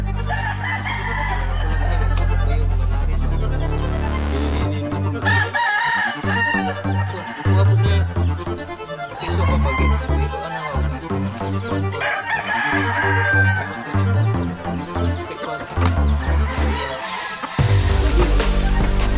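Roosters crow loudly and repeatedly at close range while chickens cluck around them on a Cebu farm, with overlapping calls filling the whole stretch.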